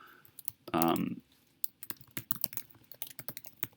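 Rapid typing on a computer keyboard, a run of sharp, uneven key clicks up close, opening with a brief louder burst of other handling noise before steady tapping continues.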